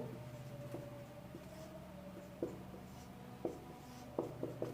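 Marker strokes on a board while a chemistry reaction product is drawn, heard as faint scratchy taps and short squeaks at irregular intervals, growing more frequent toward the end, in a quiet room.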